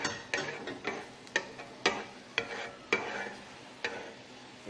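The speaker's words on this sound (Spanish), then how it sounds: "Voy a empezar a mover, ya le saqué la cebolla y el ajo" Rice frying in oil in a pan after the onion and garlic have been taken out, stirred with repeated scraping strokes in an uneven rhythm over a soft, steady sizzle.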